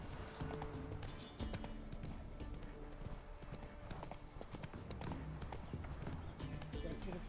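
Roach, the horse in the video game Witcher 3, gallops with a steady rhythmic clip-clop of hooves that carries on throughout, faint and under the game's other sounds.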